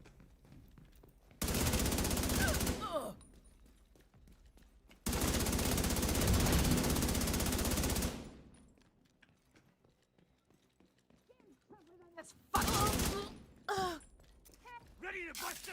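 Gunfire from a player's weapon in an online video game: three loud bursts of sustained rapid fire, the first two long and the last short, separated by quieter gaps with a voice speaking.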